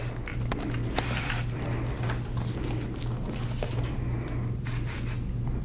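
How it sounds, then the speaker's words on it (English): Hairspray misted lightly onto hair in a salon, a soft continuous aerosol hiss with a couple of brighter spray bursts, close and fairly quiet under a low background hum. "A little hairspray, not too much."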